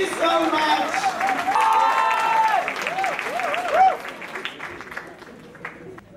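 Poetry-event crowd at a Hilton in Nairobi keeps clapping and cheering as a voice speaks over it, the applause thinning and fading toward the end.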